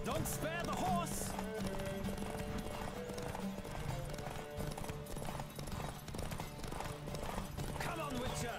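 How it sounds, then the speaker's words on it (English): Galloping horse hooves in a race from The Witcher 3 video game pound in a fast, steady clip-clop, with a horse whinnying and voices shouting over the hoofbeats. "Don't spare the horse!"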